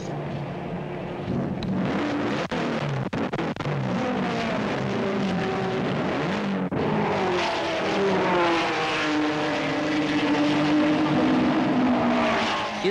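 Racing cars at the Japanese Grand Prix, including Nissan, Toyota and Porsche entries, roar past with rising and falling engine whines that overlap and sweep continuously, loud and close with revving tones throughout.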